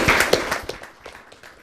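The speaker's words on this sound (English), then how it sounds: "Let's clap for him." A small audience claps briefly on a talk show, a burst of close clustered claps that thins out and fades over about a second and a half, with no voices.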